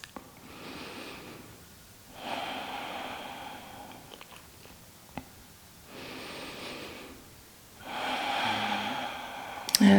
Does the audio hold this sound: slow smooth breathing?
yes